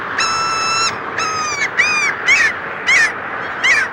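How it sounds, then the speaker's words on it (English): Mew gull calls on the breeding grounds: a series of about six loud, nasal, drawn-out mewing cries, the first ones long and the later ones shorter with falling slurs, close and alone. "Like other gulls, mews are quite vocal on the breeding grounds, and one can loosely describe their loud vocalizations as mews."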